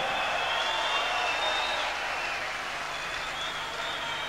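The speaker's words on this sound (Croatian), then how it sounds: "jedan veliki aplauz za ove momke ovdje" A concert crowd in Belgrade applauding an orchestra, a dense, steady wash of clapping from a large audience, slightly distant and easing a little toward the end.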